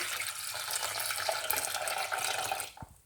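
Half a liter of water pours steadily onto conkers in a pot, a continuous splashing rush that stays loud and even before cutting off near the end.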